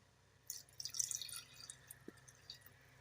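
Water is poured into a pot of rice for kushka, producing faint, close splashing and dripping in a short, uneven run.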